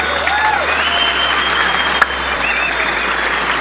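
A crowd at a live event claps for Medina, a steady, fairly loud burst of applause with a few whoops and one sharp thump partway through.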